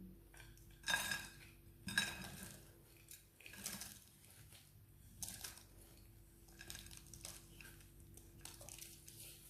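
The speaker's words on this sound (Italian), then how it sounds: "Ora versiamo i nostri biscotti all'interno." Dry biscuit crumbs tipped into a 24 cm cake ring lined with baking paper for a no-bake lemon cake, heard as a few sharp clinking rattles near the start and then a softer, steady rustling pour, all close by with no talking.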